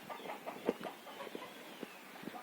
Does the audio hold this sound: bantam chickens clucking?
yes